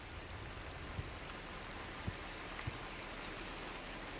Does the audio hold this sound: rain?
yes